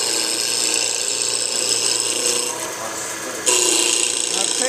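Wood lathe turning a Christmas tree ornament, the cutting tool rasping steadily against spinning wood, loud and close, with a brief dip and a sharper, brighter scrape near the end.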